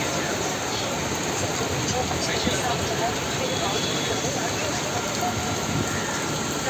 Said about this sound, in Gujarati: વરસાદ જોરથી ચાલુ થઈ ગયું છે